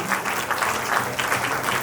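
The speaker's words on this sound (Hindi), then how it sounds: "तालियां" Audience applause at a college award ceremony, a dense steady wash of many hands clapping together, loud and continuous, with no voices over it.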